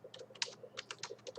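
A computer keyboard being typed on, a quick run of about a dozen light, close key clicks over little more than a second.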